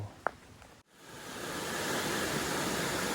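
A continuous broadband rush of a stream beside a campsite at Kaeng Nok Khao, Thailand, fills the clip after a brief pause, steady and fairly loud, like water running over rocks.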